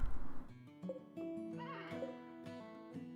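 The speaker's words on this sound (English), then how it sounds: "I think there's some horses." A horse in the video game RimWorld lets out a whinny, a wavering neigh with faint, thin tones and no talk.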